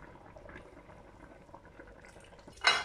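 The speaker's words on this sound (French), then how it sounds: "maintenant on va venir rajouter le jus d'orange que vous avez pressé, donc les 2 oranges" Freshly squeezed juice from two oranges is poured over a roast that has had its first cooking, with soft faint trickling and bubbling, ending in a sudden brief splash.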